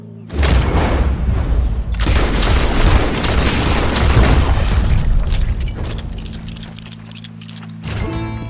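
A gunshot booms in Red Dead Redemption 2, a loud sudden blast followed by a second burst and a sustained rumbling wash of noise that slowly fades.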